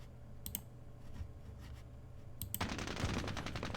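Burst of rifle and M60 machine-gun fire in the Squad Battles Vietnam game, set in Hue City 1968: a few faint clicks, then a sustained crackling volley in the last second and a half, with no talk.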